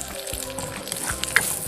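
Curry leaves, ginger and dried chillies fry in hot oil for beetroot pickle, a short close sizzle with a few sharp crackles and a light stir.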